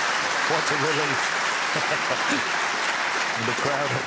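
A snooker crowd at a British Open quarter-final applauds a pot with steady, full clapping that fills the whole moment, while a commentator's voice murmurs underneath.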